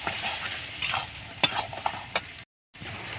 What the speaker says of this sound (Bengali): এবার আমি সবজিটা ঢেলে দেব।